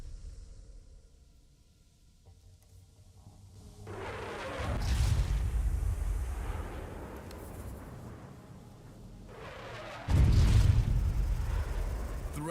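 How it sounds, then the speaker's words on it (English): Airstrike explosions rumble through a video game, two heavy booming blasts several seconds apart, each with deep low rumble and a long roaring decay, the second louder and closer. "Oh, here we go. Airstrike."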